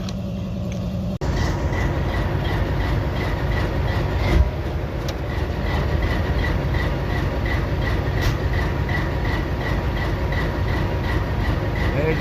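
A long freight train made up entirely of auto rack cars rolls past at a rail signal, a steady, continuous rumble with faint rhythmic clatter and a sharp metallic accent partway through, heard alone without talk.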